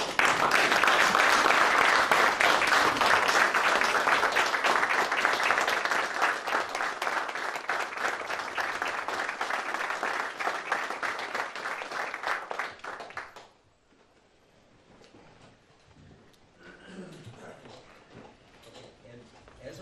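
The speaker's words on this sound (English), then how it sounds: "if you could stand and at least accept our applause" Sustained applause fills a legislative meeting room, dense and steady for about thirteen seconds before stopping abruptly, leaving quiet room noise with faint movement and murmurs.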